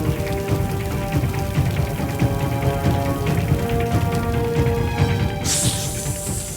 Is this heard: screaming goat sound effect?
no